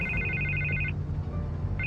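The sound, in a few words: telephone ringing in Batman video game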